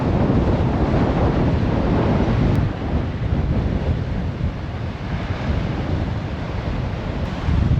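Strong wind and surf on the Ayia Napa coast of Cyprus at high tide, a loud, continuous roar of crashing waves mixed with gusty wind buffeting the microphone.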